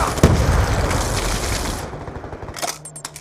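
A grenade blast and heavy automatic gunfire in a multiplayer shooter game's Demolition mode: dense, rapid loud bursts with a deep boom, thinning out into scattered shots near the end.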